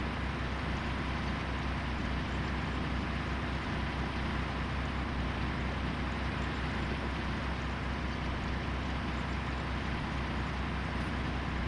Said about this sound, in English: Nothing like sitting in the tractor and pulling a cultivator behind us